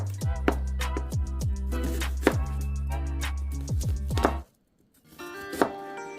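A knife slices through a daikon radish on a cutting board during soup prep, a steady series of crisp close chops and thuds for about four seconds, then a brief pause and a few lighter knocks.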